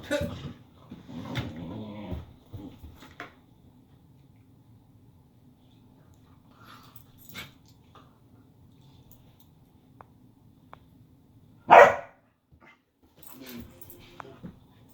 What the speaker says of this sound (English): if Woody's distracted, inevitably Cain will bark and scare the hell out of him.